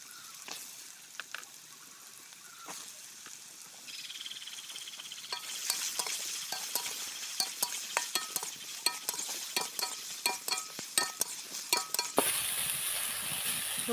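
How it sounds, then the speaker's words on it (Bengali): Soaked, drained soybeans fry in hot oil for a Bengali soybean and potato curry, a soft steady sizzle broken by sharp clinks and scrapes of a stirring spoon against the pan, growing busier midway. "সোয়াবিনগুলোও আমি একটু ভেজে নেব"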